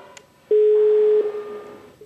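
A steady telephone line tone sounds loudly for under a second, then fades to a quieter hum with faint background noise, framed by brief clicks before and after.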